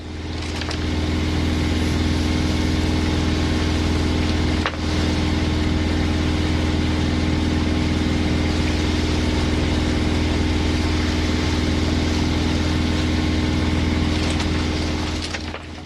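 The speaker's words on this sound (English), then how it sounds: "So we put the engine on." Sailing yacht's inboard engine motoring in calm conditions, a steady loud droning hum with low throbbing tone, continuous and unbroken, with only a brief dip midway.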